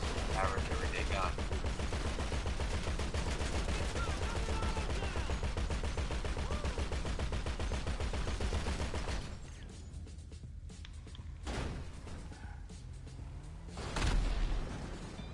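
Rapid gunfire from an ordinary handgun in the video game GTA V, dense bursts for the first nine seconds with continuous game noise, then sparser shots and a loud burst near the end.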